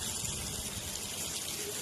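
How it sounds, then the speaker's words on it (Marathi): Water spills over the top of a full water tank in the rain, a faint continuous gushing and splashing that runs steadily throughout. "पाण्याची टाकी भरली ओव्हरफुल झाली"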